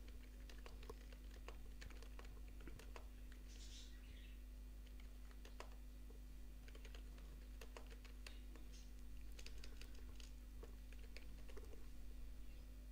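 Someone types on a computer keyboard while adding text to a box in a thumbnail design, with faint, irregular key clicks over a low steady hum in a quiet room and no voices.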